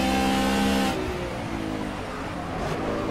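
In the Project CARS racing game, a GT touring race car's engine holds a loud, steady tone, then drops off and settles into a lower, rougher drone as it eases back on the throttle.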